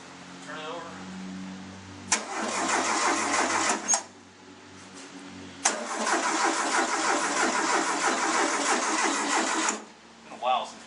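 The engine of a 1974 Volkswagen Beetle under restoration is cranked by the starter in two long bursts of several seconds each, the second ending as it catches briefly, with a voice talking before and between.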